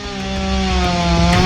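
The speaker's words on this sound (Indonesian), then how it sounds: "melakukan evakuasi dan pemotongan dengan gergaji mesin" A chainsaw cuts through trees that storms brought down across roads and onto house roofs in Surabaya. The engine whines loudly and close up, holding a steady, buzzing drone throughout.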